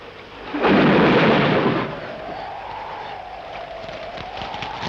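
A thunderclap rumbles loudly for about a second during a rainstorm, then fades into a steady rush of rain with a lingering low rumble behind it.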